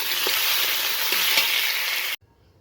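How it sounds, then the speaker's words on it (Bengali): Flat beans fry in oil, a loud, close, continuous sizzle with occasional soft stirring knocks that cuts off abruptly near the end into near silence. "দেখো এবার আমি সিমটাকে ভালো করে তেলের মধ্যে ভেজে নেব"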